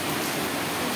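A brief burst of steady, hissing rain, dense and even, with no voices.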